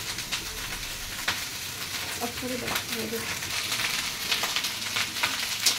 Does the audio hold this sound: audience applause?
no